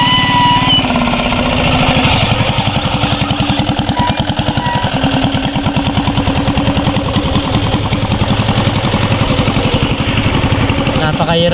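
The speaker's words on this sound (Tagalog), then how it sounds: "Mga tricycle naman to oh, sinasakay." A passenger tricycle's small engine chugs steadily and close by with a rapid, even pulsing throughout, while voices talk over it.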